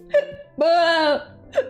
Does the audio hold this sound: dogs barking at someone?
no